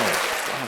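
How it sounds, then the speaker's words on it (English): A short burst of applause during a live podcast break for San Antonio, a dense, steady wash of clapping that stays loud throughout and tapers slightly at the end. "We're going to take an applause break for San Antonio real quick."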